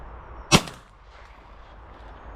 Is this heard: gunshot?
yes